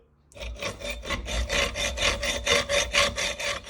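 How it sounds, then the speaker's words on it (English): Steady back-and-forth hand sawing through metal on a Peugeot timing belt job, a bright rasping stroke repeating roughly every half second, close and fairly loud, with no talking. "Left-handed sawing, can't beat it."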